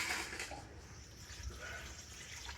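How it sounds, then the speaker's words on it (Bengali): Water is poured into a kadai set on a lit stove, a steady close splashing rush that keeps going for the whole stretch. "আর কড়াতে আমি দিয়ে দেব জল।"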